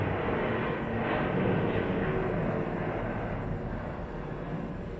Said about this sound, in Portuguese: Deixa eu passar o avião.